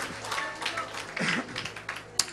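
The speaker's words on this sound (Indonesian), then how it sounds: "Beri tepuk tangan yang meriah buat Tuhan" A church congregation breaks into a short burst of lively applause, claps crowding together over a faint low tone, with a few voices mixed in.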